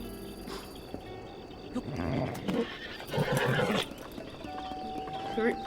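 A saddled and bridled horse in the video game Zelda: Breath of the Wild gives a short whinny at moderate volume over ambient game sound, with a person talking at times.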